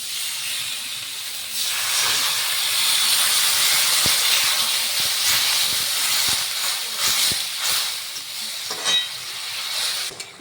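Water poured onto hot fried spice masala in an iron pan sets off a loud, sustained steam hiss that swells, then breaks into bubbling and scattered sizzling pops as it settles.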